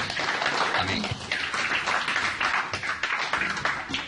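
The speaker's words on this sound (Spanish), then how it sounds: "Un aplauso para Cristo." A church congregation applauds for several seconds, dense steady clapping that fills the room, with a voice faintly present beneath it.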